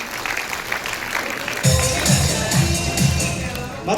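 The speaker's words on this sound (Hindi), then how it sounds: "एक बार जोरदार ताली सर के लिए चाहूंगा मैं।" An audience at a large seminar in Delhi breaks into applause, a dense burst of clapping that starts abruptly and continues steadily and loudly, with a voice faintly beneath it.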